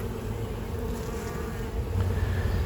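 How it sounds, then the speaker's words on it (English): Honey bees swarm out of a hive opened for inspection, making a steady, dense buzzing drone that holds fairly quietly throughout with no talking. "That's a lot of bees to come out."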